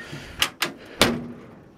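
The door of a 1957 Chevrolet 3100 step-side pickup truck is handled and shut, with two quick metallic clicks followed by a firmer close with a short ringing tail, nearby and with no talking.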